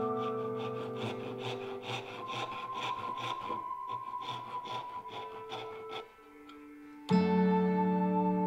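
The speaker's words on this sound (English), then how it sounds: "So to remove the waste, I just removed it with my fret saw" A fret saw cuts away the waste wood between tenon cheeks, with steady rasping strokes in quick rhythm, close and fairly loud, that pause briefly before a sharper louder scrape at the end.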